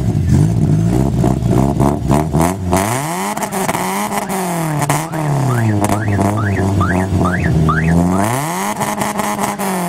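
A VAZ 21015 car engine revs hard and repeatedly, its pitch sweeping up and down through loud, rough throttle blips, close and dominant throughout.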